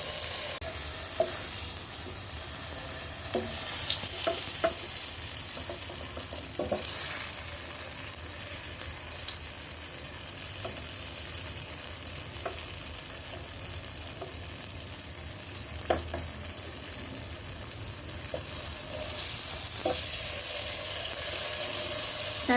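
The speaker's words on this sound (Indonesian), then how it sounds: "Saat menggoreng tahu, jangan lupa masak dengan api kecil." Tofu frying in oil in a pan over low heat, a constant soft sizzle with occasional stirring clinks and pops, steady and close, no talking.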